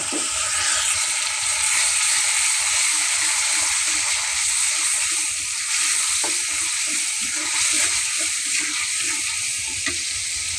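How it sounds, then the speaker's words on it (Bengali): Blended spice paste of turmeric, chilli and coriander powders with onion, garlic and a little ginger sizzling steadily in a pan for a river fish curry, a continuous close frying hiss with occasional stirring scrapes. "হলুদের গুঁড়ো, মরিচের গুঁড়ো, ধনিয়া গুঁড়ো, মরিচ, পেঁয়াজ, রসুন একসঙ্গে ব্লেন্ডার করা, একটু আদা আছে, সব দিয়ে দিলাম মশলা"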